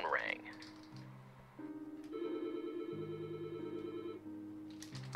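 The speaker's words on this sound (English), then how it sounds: "my phone rang" A telephone rings with a sustained electronic tone that shifts pitch in steps, heard faintly over soft keyboard-like tapping and a low background hum.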